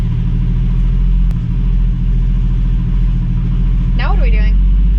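A 1965 Ford Mustang restomod idles while warming up, a loud, steady, deep engine rumble held close throughout, with a brief voice breaking in near the end.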